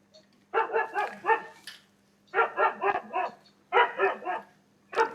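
A husky barks in bursts of three or four quick, yelping barks separated by short gaps, played back on a device with a faint steady hum underneath and no talking.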